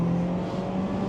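A 2024 Mazda MX-5 roadster's engine revs hard near 7,000 RPM, a steady, loud, sustained high-revving drone with a strong tonal hum throughout, heard alone without talk.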